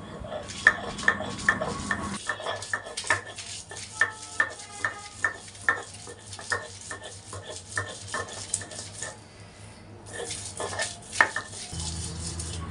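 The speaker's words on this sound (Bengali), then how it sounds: "এখন সব কিছু একসাথে দিয়ে তারপর শিলপাটায় বেটে নেব" Boiled bean leaves, raw onion and a little salt are crushed on a flat grinding stone with a stone roller, giving close, rhythmic knocks and scrapes in a steady series with a short pause before the strokes resume.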